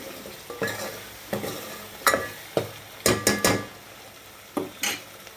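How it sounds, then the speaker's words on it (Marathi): Masala with red chilli powder and mutton stock is roasted for a village-style mutton curry, a spoon scraping and knocking against the pan in about ten separate strokes over a low sizzle, close and clear with no voices. "आपल्याला हे लाल तिखट घातल्यानंतर मसाला भाजून घ्यायचा आहे व्यवस्थित."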